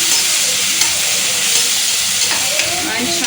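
Mutton sizzles in a hot pan with a pinch of asafoetida while being stirred, a dense close hiss of frying with faint scraping knocks throughout.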